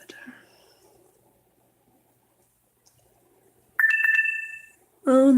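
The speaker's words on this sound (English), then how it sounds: "Oh no, that's my phone." A mobile phone ringtone sounds loudly, a steady electronic tone with sharp pulsed notes lasting about a second, after quiet pen-on-paper scratching during a craft session; a person starts talking just after it.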